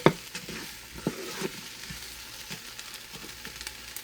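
Meat for a Mississippi pot roast sears on the saute setting of an Instant Pot, giving a steady soft sizzle with occasional clicks and taps from stirring, close and moderately quiet.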